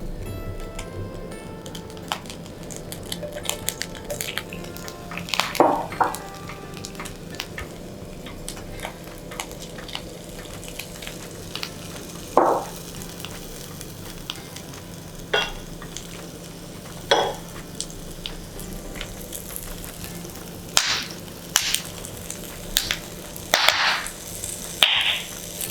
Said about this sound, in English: just saute the mushrooms, black fungus, the beancurd sticks, as well as the vegetables